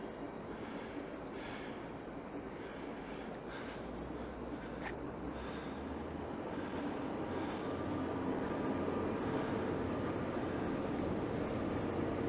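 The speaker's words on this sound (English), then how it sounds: "there's a train coming in, Bill." A train approaching in the distance near a town quay, heard as a faint, steady low rumble and broad wash of noise that holds throughout without clear individual sounds.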